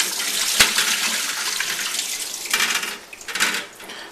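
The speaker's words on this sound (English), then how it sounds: "drain them through a colander here" Brined shallots tipped into a colander to drain, a splashing pour of liquid with clinks of a bowl against the colander, close and fairly loud, no voices.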